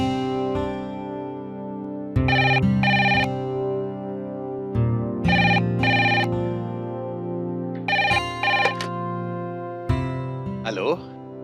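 Telephone ringing as a call is placed to Nagaur, an electronic tone repeating in four evenly spaced bursts over a sustained background hum.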